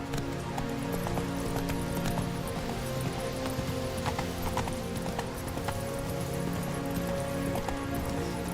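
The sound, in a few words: horse Roach galloping hooves in Witcher 3 video game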